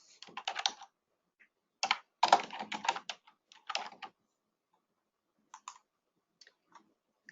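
Clicking keystrokes on a computer keyboard as a property address is entered, close and crisp, in quick uneven bursts with short pauses between words, then a few scattered final taps.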